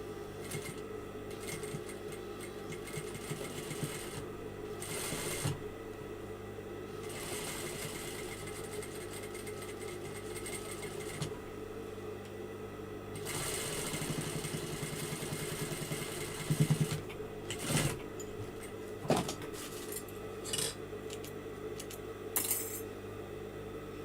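A sewing machine stitches stretched elastic in a long steady mechanical whir, its motor humming continuously with small pauses and a few clicks as the fabric is pulled through.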